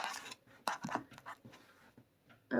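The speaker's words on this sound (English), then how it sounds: "So I'm going to cut the deck." A deck of tarot cards is handled and cut, giving soft papery shuffling and brushing sounds in a few short bursts with quiet gaps, close and fairly faint.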